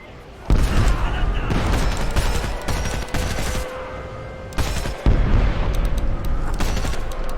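Artillery barrage from a DPICM fire mission in Homefront: a dense, rumbling fusillade of booms and rapid gunfire that rolls on continuously, with a short lull partway through, loud and close.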